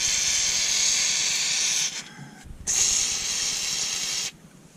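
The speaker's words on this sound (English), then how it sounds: "Let's spray this with WD-40 and see what happens." WD-40 spray can blasting onto the main seal of a Chevrolet Silverado LML Duramax diesel oil pan: two long, loud, steady hisses of about two and four seconds, separated by a short pause, close to the microphone.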